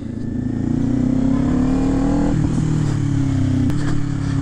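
Kawasaki Ninja motorcycles ride through New York City streets: a steady, loud engine drone with smooth rising and falling revs and a couple of gear-shift dips, heard up close and alone, without talk.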